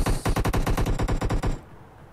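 Automatic M16 rifle fire in the mobile game PUBG Mobile, a rapid burst of about a dozen loud, evenly spaced shots lasting around a second and a half, then cut off.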